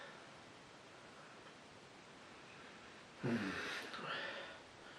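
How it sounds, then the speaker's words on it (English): A short, close nasal sniff of breath at a glass of Kernel Brewery rye IPA, then a softer second inhale, against faint room noise. "Let's have a sniff."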